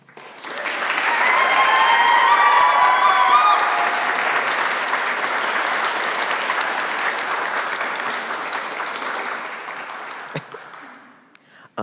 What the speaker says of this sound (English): Please join me in thunderous, thunderous applause to welcome James Hemingway to Newman Lumen today.